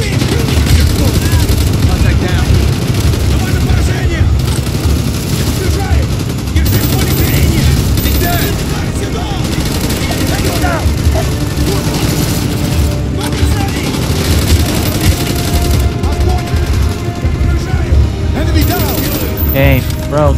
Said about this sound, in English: A lot of incoming fire.